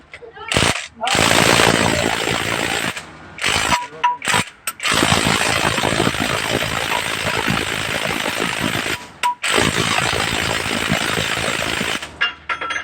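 An impact wrench hammers in loud, rattling bursts on a very tight bolt, stopping and starting repeatedly with short pauses between runs.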